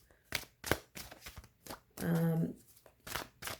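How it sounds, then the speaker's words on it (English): A tarot card deck is shuffled in quick, crisp bursts of rustling, close by, with a short hummed voice sound partway through. "just going to give it a shuffle and then pull from the bottom of the deck"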